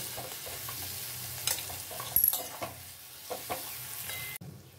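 An ingredient fries in a pan until reddish, a continuous soft sizzle broken by louder spatula scrapes and stirring knocks, ending in a sudden drop.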